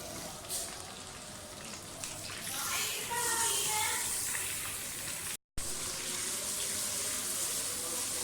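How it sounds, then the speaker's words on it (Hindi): Onions frying in oil with whole spices in a pot for chana dal biryani, giving a steady, close sizzling hiss that cuts out for a split second near the end. "प्याज अच्छी तरह से फ्राई होने दें।"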